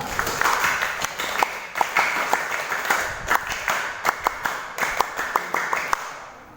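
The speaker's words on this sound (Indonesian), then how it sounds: "Dua kali tepuk Pramuka." A room of Indonesian Scouts at a school troop meeting performs the rhythmic Pramuka clap, patterned bursts of clapping with sharp accented beats repeated in sequence, fading at the end.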